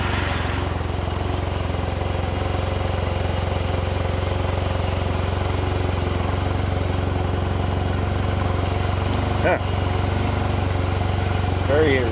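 A scooter engine idles with a steady mechanical drone after its side case and variator were refitted, running continuously at a moderate level with a couple of brief clanks.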